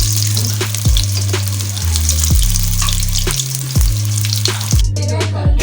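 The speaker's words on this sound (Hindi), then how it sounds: "इनको बॉल को हम जो है चारों तरफ से जो है वो फ्राई करेंगे।" Vegetable kofta balls frying in a pan of oil, a steady loud sizzle broken by a few sharp clatters and thumps, with no talking.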